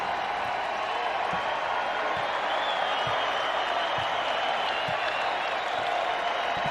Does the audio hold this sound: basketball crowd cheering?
yes